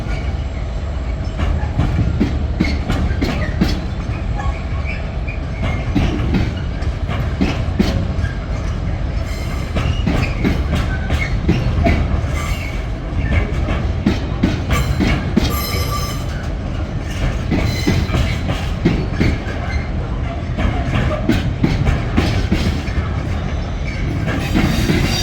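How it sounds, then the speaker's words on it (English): A goods train rolls through Manchester Piccadilly station, a steady loud rumble of wagons with repeated wheel clatter and occasional squeals, continuous and close throughout. "still the goods train's going through"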